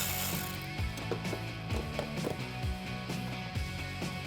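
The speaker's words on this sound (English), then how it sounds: "I can take my 8mm socket here on my ratchet and I'm going to loosen up the clamp here at the throttle body" A ratchet on an 8mm socket clicks as it loosens the throttle body clamp on a 2009-2021 Dodge Challenger 5.7L, giving a series of close, rhythmic pawl clicks in quick bursts.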